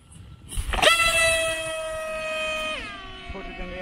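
The electric motor and propeller of a TBS Caipirinha 6S AR-Wing FPV wing jump to a loud, steady high whine for about two seconds during an auto-launch, then drop and spin down, with faint background noise after.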